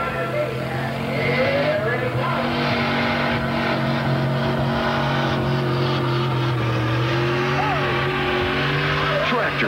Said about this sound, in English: Tractor pulling.